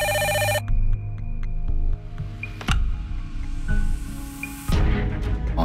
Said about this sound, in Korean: 어느 날 필리핀에서 전화가 걸려옵니다.